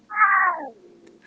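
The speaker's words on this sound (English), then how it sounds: "The cat always waits for me at the window" A pet cat lets out one drawn-out meow that slides downward in pitch, close and clear, followed by faint background noise.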